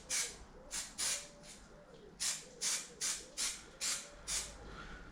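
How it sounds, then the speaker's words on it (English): Spray glue hisses from a can in short repeated bursts, about eight quick sprays close by, while stretch fabric is glued inside a camper. "I'll just little spray again of glue"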